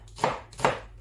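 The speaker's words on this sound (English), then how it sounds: "we're gonna need a medium white onion, which we're gonna have to chop" Two crisp knife chops cut through a medium white onion on a board, close and evenly spaced, with nothing else heard.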